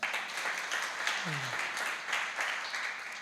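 Congregation applause during a church worship service, steady clapping from many hands throughout, with a brief voice heard partway through.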